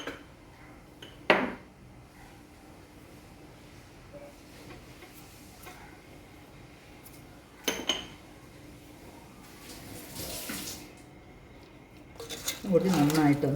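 A spoon stirring chicken masala in a pot, with a few sparse metallic clanks and scrapes against the pot separated by long quiet stretches, with a busier clatter near the end.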